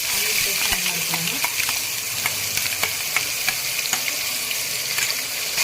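Onion paste fries with spices in a pan for chicken biryani, a loud, continuous sizzle with light, repeated scraping and ticking from stirring running through it.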